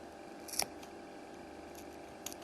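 Scissors snip through crochet yarn in one sharp close cut, and a faint second snip follows near the end, set against a quiet room.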